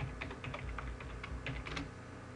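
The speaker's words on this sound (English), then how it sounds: "we have to type in the password for that user" A password typed on a computer keyboard during a Linux root login: a quick, soft run of close keystrokes with irregular rhythm and no talking.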